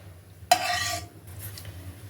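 A spoonful of ghee drops into a hot pan on a gas flame with a sudden hiss that fades quickly into a quiet, low simmer.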